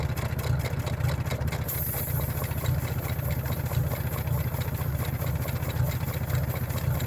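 A tractor PTO-driven air pump runs steadily beside the idling tractor engine, making a loud, even, rapid mechanical thrumming with no breaks and no talk.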